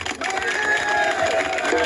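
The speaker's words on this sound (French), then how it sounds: "je tiens à ce qu'on applaudisse chaleureusement" A large crowd at a political rally in Amiens cheers and applauds loudly for François Hollande, with shouts and whoops over continuous clapping.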